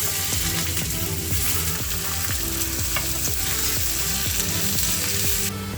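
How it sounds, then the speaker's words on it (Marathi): Finely chopped onion frying in hot oil for a paneer vegetable gravy, a steady dense sizzle with occasional stirring scrapes, close and continuous throughout with no talk. "त्यानंतर आपण हा बारीक कापलेला कांदा ॲड करू।"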